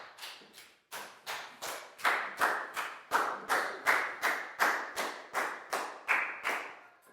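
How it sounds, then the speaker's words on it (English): A class of Year 4 pupils claps together in a round of applause for a classmate, steady rhythmic claps in about fifteen clear bursts, fairly close and loud, with no talking. "a big round of applause for Nadia,"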